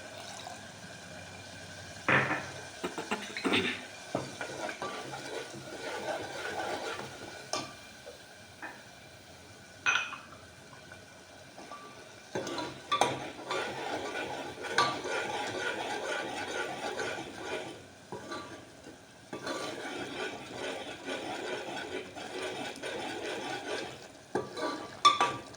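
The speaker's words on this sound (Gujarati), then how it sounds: "જેમ મસાલાને આપણે સાતળીને સરસ પકવશું" Spices stirred and sautéed in a pan for a Kathiyawadi-style veg yakhni pulao, with soft scraping strokes and faint sizzling in irregular bursts, close by and fairly quiet, no talk.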